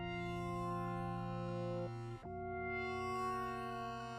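A synthesizer preset named Geometrical Optic plays sustained layered chords with rich, buzzy harmonics, changing chord with a brief dip just past the midpoint, loud and steady with no talking.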